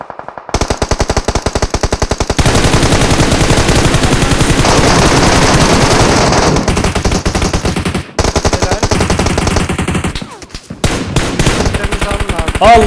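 Loud, sustained automatic gunfire in the PUBG Mobile battle royale game, with rapid dense bursts running almost continuously and a short break partway through, then more shots.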